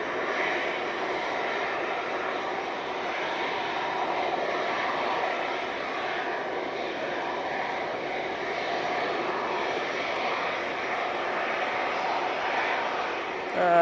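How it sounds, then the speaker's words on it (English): A Cessna Citation business jet flies in from Augsburg, its engines giving a steady, moderately distant roar that hangs at an even level for the whole stretch. "Alright, Cessna Citation,"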